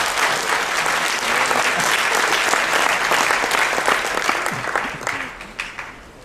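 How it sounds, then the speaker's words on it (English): Audience in a Seoul hotel grand ballroom applauds loudly and densely for several seconds at a company event, the clapping thinning and fading toward the end. "Let's give a big round of applause for Al Bala."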